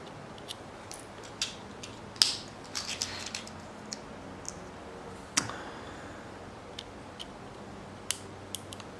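A kill key pushed into an RPK SE lightsaber hilt for an Idealized Luke ROTJ build, heard as sparse sharp metallic clicks and small taps spread over several seconds of quiet, close handling.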